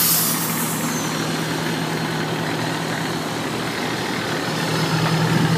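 A Louisville fire engine pulls away after a ball game, its heavy diesel engine rumbling steadily and loudly close by with no voices.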